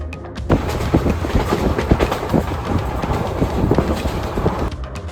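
The Chendur Express train from Tiruchendur rolls along the rails with steady clattering and rhythmic clicks over the track joints, continuous and fairly close, with no voices.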